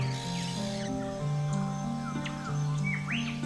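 Birds in the Daintree Rainforest give a few short, bright chirps and sweeping calls at mid distance, heard over a steady layer of sustained tonal music.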